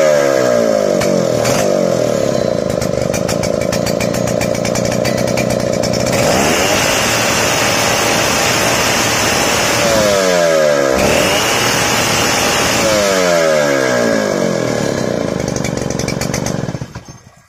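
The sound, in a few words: chainsaw engine running after carburetor adjustment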